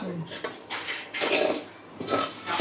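A spoon scrapes and clatters against a pot as boiled chickpeas are stirred together with a tempering, several close metallic scraping strokes in an irregular rhythm, with no talking.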